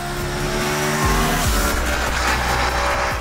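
Aprilia RS 457 motorcycle engine revving loud and close, holding a steady roar with its pitch dropping sharply twice as gears change.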